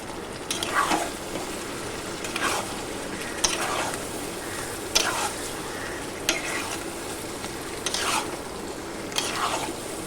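Vegetarian jackfruit curry cooked with the peel on, sautéed in a pan with crushed kasuri methi: about seven regular stirring scrapes sound over a low, steady sizzle, close by and with no talking.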